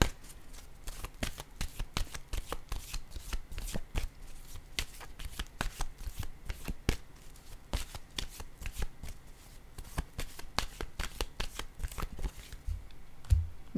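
Tarot cards are shuffled and handled in quick crisp bursts of riffling and snapping that repeat steadily throughout, close and distinct, with no speech over them.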